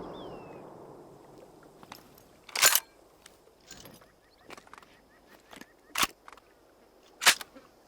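Rifle shots in the hunting game Hunter Call of the Wild ring out as sharp, isolated cracks, three loud reports spaced a few seconds apart over a quiet outdoor ambience with faint scattered clicks.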